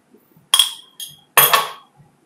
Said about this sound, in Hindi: चल अब हम इसमें डालते हैं सब्ज़ मिर्चों की पेस्ट।